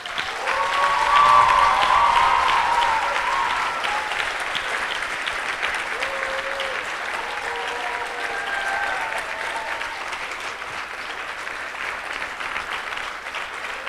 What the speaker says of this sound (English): need a much louder applause than that.